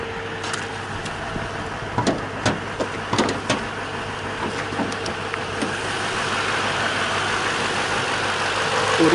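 A 2016 Toyota Sequoia Limited 4x2 with a 5.7-liter 381-hp V8 idles steadily nearby, with scattered light clicks and taps early on and the engine drone swelling slightly louder toward the end.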